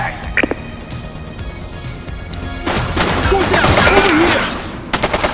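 Gunfire in The Precinct, a few sharp shots early, then a dense burst of firing and crashing mixed with voices, ending in a short cluster of loud reports.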